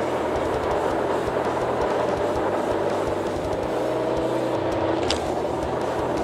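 An Opel Insignia GSi running in sport mode gives a steady, loud engine drone and road rumble from inside the car, with a slight shift in tone partway through and no talking.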